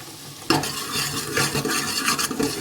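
Onions frying in a pan for radish sambar get stirred after a sprinkle of turmeric powder goes in: a sudden rise into a loud, continuous sizzle with scraping spoon strokes, close up and without speech.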